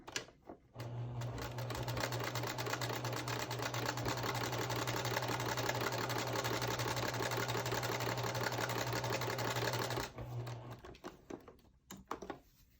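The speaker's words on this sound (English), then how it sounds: "I'm going to pick up and sew together my white and color with my 1/4 inch seam." A sewing machine runs continuously for about nine seconds, a close, fast, even mechanical whir with a steady hum as it stitches a quarter-inch seam joining white and colored pieces of a quilt block, then stops and leaves brief handling noises.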